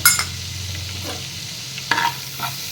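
Vadagam dropped into hot sesame oil in a black clay pot, giving a steady close sizzle and crackle with a few brief scraping stirs, no voices.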